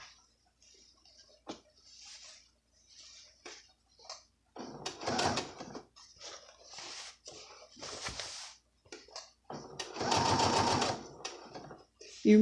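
A sewing machine stitching through layers of fabric, heard in short and longer whirring bursts between pauses, with someone talking throughout at moderate volume.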